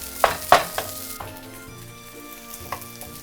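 Cooked white rice hitting a hot pan for hibachi fried rice: a loud burst of sizzling and clatter at the start, then a quieter, steady frying hiss near the microphone.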